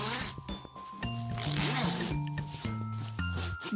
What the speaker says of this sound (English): Because now we really do have to unzip